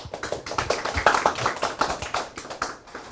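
At a labor policy forum, a small audience claps to welcome the next presenter, producing brisk, close, moderately loud applause that stays steady for a few seconds.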